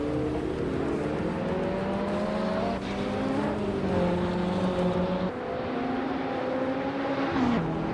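Race cars roar in a video game, a 1989 Ferrari F40 Competizione among them, their engines whining steadily at close range with rising and falling pitch as gears shift and the cars accelerate.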